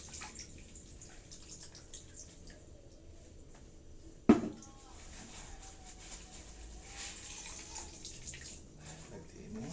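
Water being changed in a container of soaking ketapang leaves for betta fish, heard as a faint trickle and drip in a quiet room, broken by one sharp knock partway through.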